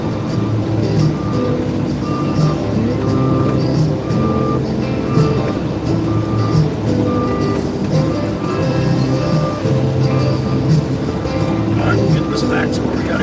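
A loud truck idles outside with a steady low engine rumble and a regular series of reversing beeps throughout, under continuous nearby talk.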